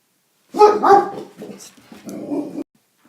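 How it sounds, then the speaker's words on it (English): Dog barking indoors in a burst of several close, loud barks with a few whimpering yips, then silence. "The dog had some input."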